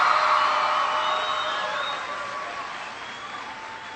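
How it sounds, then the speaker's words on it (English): Audience at a school event applauding, a broad crowd wash with some cheering that slowly fades, heard from a distance. "Give yourselves a big round of applause."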